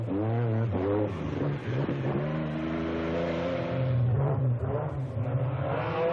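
Rothmans-liveried Metro 6R4 rally car driven on a rally stage, its engine revving hard and climbing through the gears with rising harmonic whine, loud and close throughout.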